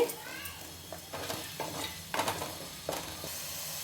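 Tomato puree frying in a pan for a fish curry, a steady sizzle broken by several scraping stirs of a spoon against the pan, close and moderately loud.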